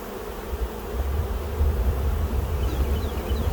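A steady, close hum of honeybees swarming around small nuc hives, a dense drone with no talking.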